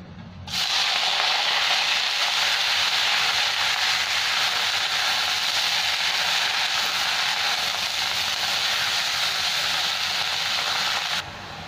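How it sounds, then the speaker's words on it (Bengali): Washed red amaranth greens hitting hot oil with frying spices, a sudden loud broad hiss that stays steady and intense for about eleven seconds, then cuts off, close and alone. "এবার শাক ধুয়ে রেখেছি, এটা দিয়ে দিলাম।"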